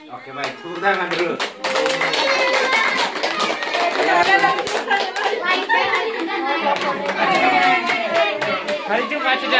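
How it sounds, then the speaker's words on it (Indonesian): Applause breaks out from a small crowd after a singing performance, dense hand clapping sustained for several seconds with children's voices and chatter mixed in. "Tepuk tangan dulu."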